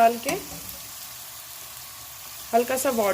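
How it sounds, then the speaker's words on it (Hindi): Chicken karhai masala roasting in a pan, a low steady sizzle heard between stretches of a person talking at the start and end. "फिर हम इसको थोड़ा सा भूनेंगे"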